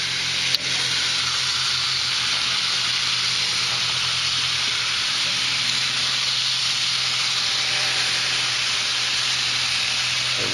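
Rack of lamb sizzling on a hot Himalayan salt block, a steady close hiss and crackle of frying that runs without a break.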